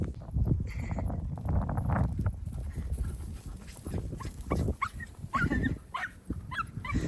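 Several dogs running about at an outdoor dog field: paws scrabbling, panting, snuffling and the odd short whine or yip, fairly close and continuous.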